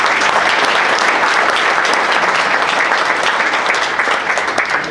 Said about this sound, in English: So I think, John, you need a round of applause for that.